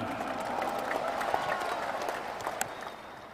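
Audience applause at an Indonesian gathering attended by Golkar Party and Pemuda Pancasila members, a steady moderate wash of many hands clapping at some distance, with a few sharper claps standing out.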